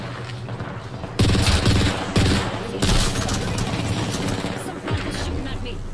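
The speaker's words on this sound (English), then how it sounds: "Some fuck is shooting at me" An enemy opening fire in Apex Legends: loud bursts of rapid automatic gunfire in several separate volleys, close and punchy, with a voice talking in between.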